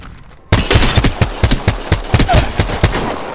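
Rapid automatic gunfire in the video game Apex Legends, a dense string of sharp, loud shots bursting in suddenly and continuing in quick irregular volleys.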